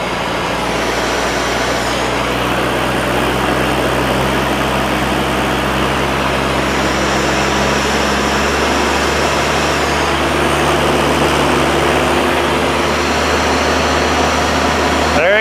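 A cold water diesel trailer jetter rated 18 gpm at 4000 PSI drones steadily close by, a loud continuous engine roar that rises slightly in intensity as it throttles up.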